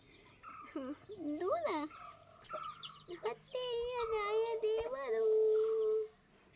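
Chickens and chicks on a small poultry farm give close, clear, rising and falling peeps and clucks in bursts, with voices nearby.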